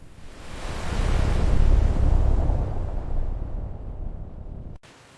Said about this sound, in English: A gentle bubble wash loosens the dirt without ever scuffing the delicate surface.